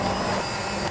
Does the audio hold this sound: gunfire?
no